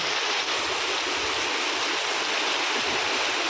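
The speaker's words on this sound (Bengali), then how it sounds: "আজকে মনে হয় আপনাদের এই বৃষ্টি দেখানো হবে" Rainwater pours off a building during a rain shower, a dense, steady rushing splash like a stream, close and continuous with no breaks or talking.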